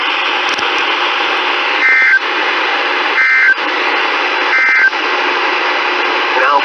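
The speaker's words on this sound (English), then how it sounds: "This has been a test of the NOAA weather radio warning device." NOAA weather radio warning device alert tone sounding as a loud, steady broadcast tone, broken by three brief dips into separate shrill beeping bursts at regular intervals.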